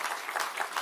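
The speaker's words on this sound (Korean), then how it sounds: "이쯤에서 박수 한번 좀 쳐야 되는 거 아닙니까?" A brief, dense burst of audience applause rises at a Korean political party gathering, a steady crowd clapping with no gaps.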